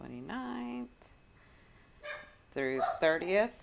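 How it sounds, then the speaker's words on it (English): A dog barks and yips several times nearby, with someone talking over it in a quiet room. "I apologize about the dogs again"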